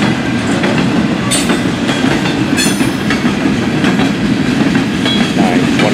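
FEC freight cars, a long cut including Tropicana juice cars, roll past loud and close on the rails, a continuous heavy rumble with rhythmic clickety-clack and a few brief high wheel squeals.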